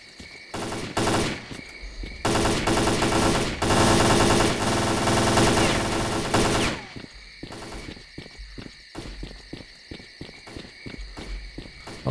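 Rapid machine-gun bursts in the S.T.A.L.K.E.R. Clear Sky video game, loud sustained automatic fire in several long volleys, followed by scattered single shots and footsteps.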